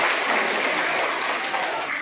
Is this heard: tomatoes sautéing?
no